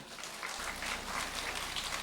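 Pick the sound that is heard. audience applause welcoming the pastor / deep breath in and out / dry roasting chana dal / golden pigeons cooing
audience applause welcoming the pastor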